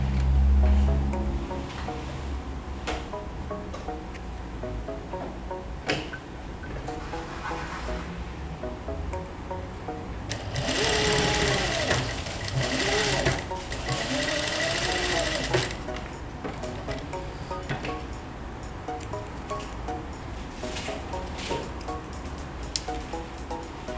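Sewing machine stitching a patchwork block, a continuous close mechanical whir with regular needle clatter for about twenty seconds, louder mid-way, with faint background sounds.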